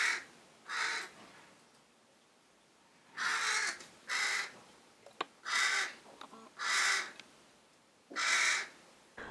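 Young wild crows beg for food on a terrace with a series of loud, harsh caws, about six separate calls spaced a second or so apart, close by and with no other sound.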